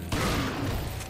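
Shotgun blast in Resident Evil 4, a single loud burst cutting in after a brief pause and ringing out with a dense, rumbling tail over busy game sounds for about a second.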